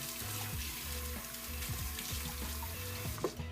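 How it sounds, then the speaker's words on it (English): Tap water runs steadily over green onions being washed in a kitchen sink, a continuous close splashing hiss with faint clinks, no talking. "Okay, so I'm going to be washing these green onions."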